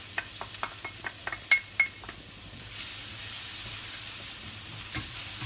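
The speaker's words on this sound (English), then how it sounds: "and we fry the garlic." Oil sizzling in a hot pan as garlic fries in about a tablespoon of oil, with a few sharp clinks of a utensil against metal, then a steady hiss of frying.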